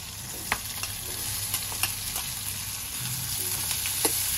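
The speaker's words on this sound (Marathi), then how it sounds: "आता आपण यावर कांदा घालूया" Chopped onion goes into hot oil already seasoned with mustard seeds, asafoetida, crushed garlic and chillies, giving a soft steady sizzle with a few light clicks of a spoon against the pan, fairly quiet, no talking.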